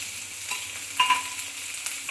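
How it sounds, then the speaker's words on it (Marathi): Chopped onion frying in a little oil in a pan for kanda poha, a steady soft sizzle with a few brief stirring clinks and scrapes, close and moderately quiet, no voices. "थोड्याच तेलात मी आधी कांदा छान भाजून घेणार आहे"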